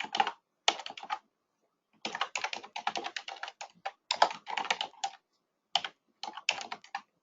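Keys clatter on a computer keyboard as a folder name is entered, coming in quick close bursts with short pauses between words.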